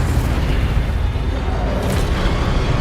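Incendio fire spell cast in the Hogwarts Legacy video game, a loud, dense burst of roaring, rumbling blast noise that sustains for about three seconds without pause.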